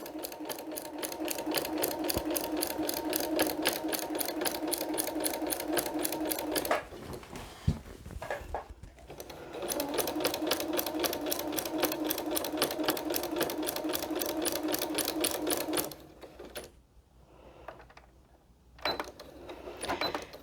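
Sewing machine stitching fabric place mats with back stitching, a fast steady needle rattle running in long bursts with brief pauses between seams, close and loud, no talking.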